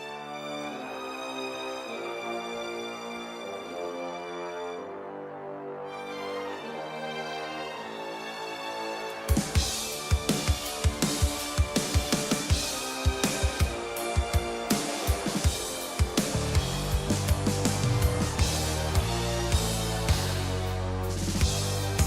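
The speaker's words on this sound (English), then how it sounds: "And we have strings too. So it sounds like this." Orchestral strings play sustained harmonic chords in a music production mix, first alone and softer, then joined by loud punchy percussive hits driving a steady rhythm.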